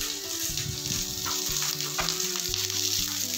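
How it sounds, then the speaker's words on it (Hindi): Whole and ground spices (cumin, red chilli, turmeric, coriander, garam masala, salt) dry roasting in a pan for paneer do pyaza, giving a steady close sizzle and crackle with faint stirring scrapes and background hum. "ये हम भून के इसको करते हैं, थोड़ा कलर बदल जाएगा तो हम इसको भून लेंगे"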